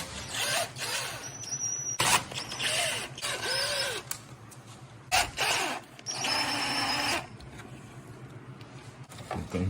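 Small Torx T15 screws being backed out of a Jeep Wrangler headlight bezel, giving close, intermittent mechanical creaks and ratcheting twists in short bursts with pauses between.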